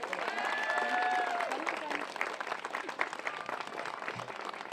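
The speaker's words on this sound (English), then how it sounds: "Can we give a round of applause for all our Higginson students?" A crowd at a school playground ribbon cutting applauds for students, a short round of clapping that fades as a voice speaks over it.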